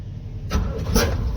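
A car engine with no clutch safety switch cranks and catches in a garage, a broadband burst near and loud that swells twice within about a second over steady low rumble.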